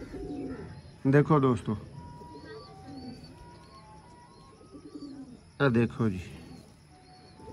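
Two short bursts of soft, throaty cooing from nearby pigeons, separated by a quiet stretch, with a voice speaking briefly.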